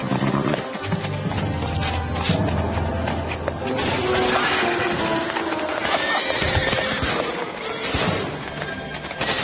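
Horses of a World War I Uhlan cavalry squad in an animated film, with dense clip-clopping hooves and repeated neighs and whinnies, loud and close, continuing throughout.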